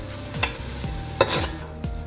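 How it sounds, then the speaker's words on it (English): Onions, pimento, minced garlic and hot pepper slices sizzle steadily in hot oil in a pan, with a few sharp scrapes and knocks as the mix is stirred. "to let that sizzle there"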